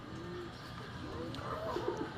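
A pigeon coos softly in a few low, warbling phrases against a background hum.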